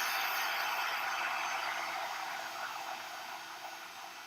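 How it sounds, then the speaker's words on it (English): A handheld heat tool blows over a card-making embellishment to dry it, giving a continuous airy hiss and whir that holds steady and slowly fades a little, close and without talk. "I'm just going to run the heat tool over it just to finish it off so I can put my baubles on"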